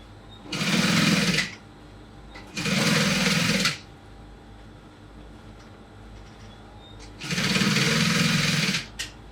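A sewing machine stitches fabric on a cap in three loud, steady whirring bursts, each lasting about a second, with short quiet pauses between them.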